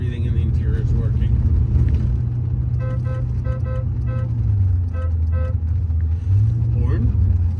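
A 1998 Aston Martin V8 Coupe rolls through a neighborhood, its low engine rumble steady and close from inside the cabin, broken midway by a series of short, evenly spaced horn toots.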